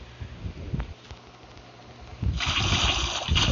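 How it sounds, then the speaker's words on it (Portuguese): Water splashing and pouring onto a floor, a low trickle that swells into a louder, steady gush of spilling liquid in the last second and a half. "tô derrubando água no chão"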